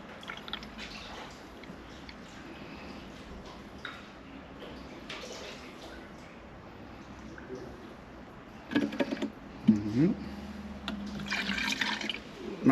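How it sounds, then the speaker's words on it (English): Pure antifreeze pours into a car's coolant bottle, giving quiet liquid trickles and glugs that turn louder and gurglier toward the end, with soft background noise. "So we'll just fill it up with pure antifreeze."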